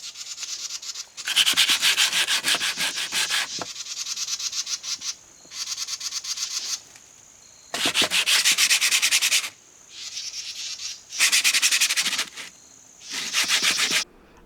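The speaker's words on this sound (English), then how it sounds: "I decided to sand down these chipboard seat bases" Chipboard seat bases are sanded in long, rasping bursts of scratchy friction, about six separate passes with short pauses between them, close and fairly loud with no talking.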